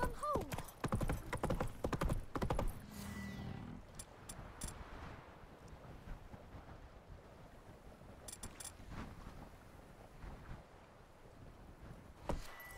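Roach, Geralt's horse in The Witcher 3: Wild Hunt, trots with rhythmic hoof clip-clops through a game scene, some speech early on and ambient wind and water beneath the steady hoofbeats.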